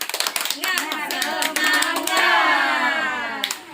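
A group of people in a child-protection training session chant and clap together in a rhythmic cheer, sharp hand claps in quick bursts mixed with voices, close and lively.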